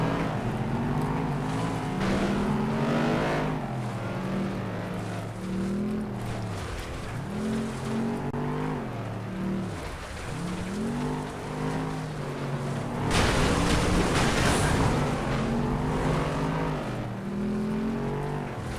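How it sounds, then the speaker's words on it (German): Race car engines from the FlatOut video game roar steadily through a Gold Cup race, the cars now carrying extra horsepower. Revs rise and fall continuously with loud, overlapping engine drone and a brighter surge near the end; no one speaks. "die Autos haben jetzt alle einiges an mehr PS unter der Haube."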